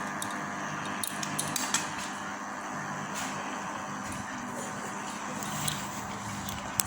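Boiled drumstick pieces stirred in a metal pot, with a steady scraping and clinking of a utensil against the pan over low background noise and a few sharper clanks.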